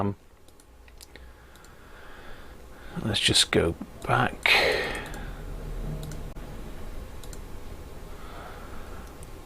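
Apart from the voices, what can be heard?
keys clicking on a Commodore Amiga A500 Plus keyboard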